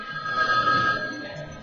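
A steady electronic telephone ring trills continuously at moderate volume on a radio show, with no voices present.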